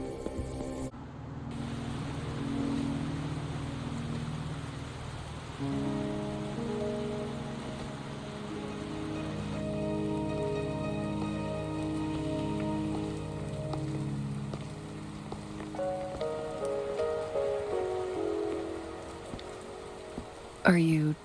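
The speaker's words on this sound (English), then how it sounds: "Are you trapped here by the rain?" Steady rain falling in the video game Wuthering Waves, a soft constant patter under layered music tones, faint throughout with a brief click at the end.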